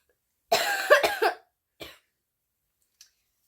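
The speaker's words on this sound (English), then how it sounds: "Sorry, just a little bit of coughs and allergies." A person coughs close by: a burst of three quick rough coughs followed by a single fainter one, with a couple of tiny clicks afterward and otherwise quiet.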